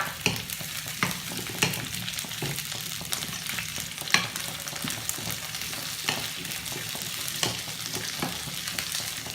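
Onion and capsicum frying in a kadhai, a continuous crackling sizzle broken by regular sharp stirring scrapes every second or so, close and steady, without speech.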